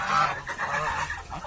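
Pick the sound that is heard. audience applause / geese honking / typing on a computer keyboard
geese honking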